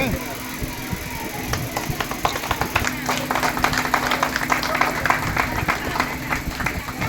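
An audience at a community hall inauguration applauds, a dense crowd of clapping hands building and holding steadily, with voices and some talking mixed in.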